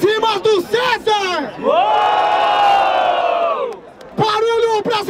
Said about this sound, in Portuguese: Barulho pra cima do César